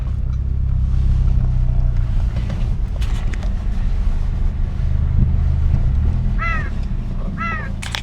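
A Nissan Sentra fitted with a 350Z exhaust pulling into a driveway, a steady deep exhaust rumble heard close up with wind buffeting, while crows caw twice in the background near the end.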